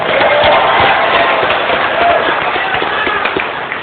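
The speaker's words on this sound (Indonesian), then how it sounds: "Mari kita beri tepuk tangan yang meriah sekali lagi." The audience at a regency head candidates' debate breaks into loud, dense applause mixed with crowd noise and scattered sharp claps, fading slightly toward the end.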